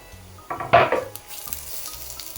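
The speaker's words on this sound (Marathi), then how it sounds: "आणि टमाटा हे थोडासा आपण फ्राय करून घेऊया" Chopped tomatoes fry in an onion masala for egg curry, giving a close, steady sizzle with scraping and stirring bursts against the pan and a few light clinks of utensils, with no talking.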